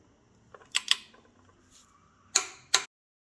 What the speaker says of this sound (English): The torque wrench is done to 40 Newton meters.